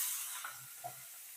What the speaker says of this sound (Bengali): আমি বাটার দিয়ে ভাজছি